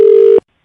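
A steady telephone tone sounds for a split second as a phone call is placed, loud and close, then cuts off abruptly into silence.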